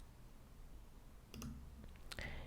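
A computer mouse clicks a few times, sharp and close but faint, in a quiet room.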